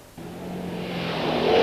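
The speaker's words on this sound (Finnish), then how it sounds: "Autona on Audi Coupé Quattro." A 1992 Audi Coupé Quattro rally car in a junior championship rally at Somero approaches, its engine note rising steadily and growing louder over about a second and a half.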